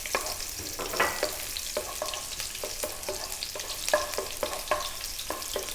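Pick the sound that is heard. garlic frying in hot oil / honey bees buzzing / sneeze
garlic frying in hot oil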